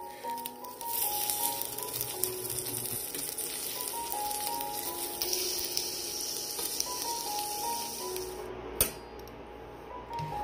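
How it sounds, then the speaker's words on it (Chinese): Pork belly pieces for Dongpo pork pan-fry over low heat in a little oil, giving a soft, steady sizzle throughout with one faint click near the end. "锅中下少许清油，小火将肉块六面煎黄。"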